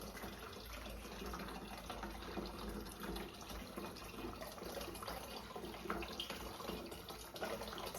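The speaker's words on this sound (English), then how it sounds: "So now I'm going to pour in our next quart." A quart of water pouring steadily into a gallon container, making a continuous splashing, gurgling rush that is close and fairly quiet and runs the whole time with no voice over it.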